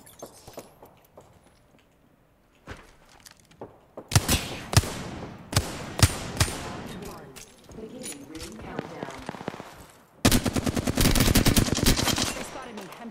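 Gunfire in the battle royale game Apex Legends, with quieter footsteps and movement early on, then loud bursts of automatic fire from about four seconds, ending in a dense, sustained volley.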